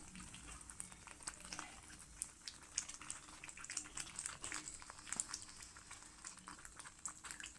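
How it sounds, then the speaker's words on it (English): Roasted onion and yoghurt egg gravy simmering in a pan over low flame, soft irregular bubbling and popping, faint and close, steady throughout with no talk. "Allow it to simmer for 2 minutes"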